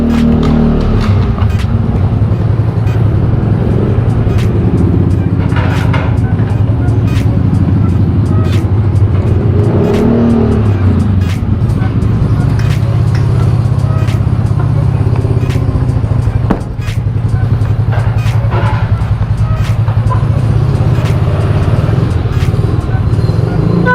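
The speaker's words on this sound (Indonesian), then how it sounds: "Panasin dulu motor, lupa gua panasin cuy." A motorcycle engine idles to warm up in a 24-hour mall parking lot, a steady low rumble running throughout with occasional small revs and background clatter.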